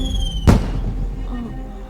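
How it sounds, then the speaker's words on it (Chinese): A signal flare arrow firework bursts in a single sharp crack with a brief rushing tail, set against a steady tonal background in a historical martial-arts drama. "一支穿云箭"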